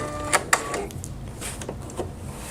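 An EverSewn Sparrow X2 sewing and embroidery machine stitching very short, tiny stitches, giving a close mechanical whir broken by two sharp clacks early on and softer ticking after.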